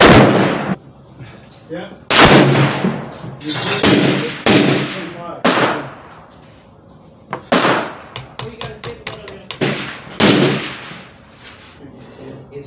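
Savage Axis II XP hunting rifle firing about eight sharp, loud shots at irregular intervals, each with a brief ringing decay; a voice speaks briefly between them.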